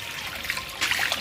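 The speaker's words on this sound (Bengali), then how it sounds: "জল দিয়ে দিলাম" Water trickling and splashing into a pot for boiling eggs at an outdoor pond-side picnic, a brief soft gurgling pour that grows louder partway through.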